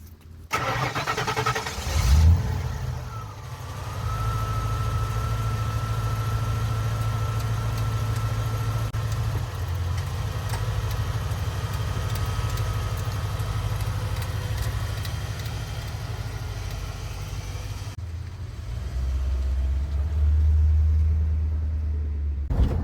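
A car with new brakes, springs, shocks and control arms on a test drive: a steady, loud low engine and road rumble runs throughout, with a brief engine rev near the start and a heavier burst near the end.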